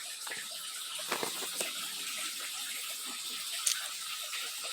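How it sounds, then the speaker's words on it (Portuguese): Steady rushing and splashing of water pouring into aquaponics tanks, continuous and moderately loud, with no talking. "dá para ouvir o barulho da queda da água aqui nas caixas"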